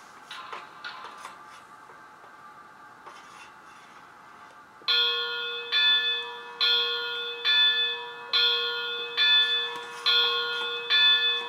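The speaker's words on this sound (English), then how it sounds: "this bell rate is going to work fine for me" Quiet ticking and clicking, then a model steam locomotive bell from a Tsunami sound decoder starts ringing in steady, evenly spaced electronic dings that continue to the end.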